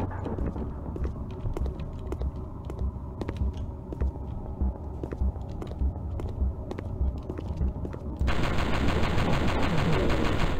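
Rapid gunfire from weapons in a PS1 video game, a steady series of sharp, evenly spaced shots that becomes louder and denser near the end, with no talk over it.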